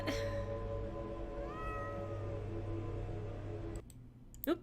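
A cat in the point-and-click game The Excavation of Hob's Barrow meows in a drawn-out, wavering cry over a low steady hum, followed by a couple of sharp mouse clicks near the end.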